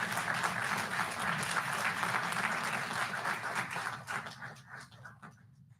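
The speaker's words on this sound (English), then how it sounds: "I can deserve a round of applause while I go to the podium." A crowd applauds steadily at a school board meeting, a dense wash of clapping that holds strong for several seconds before thinning and fading toward the end.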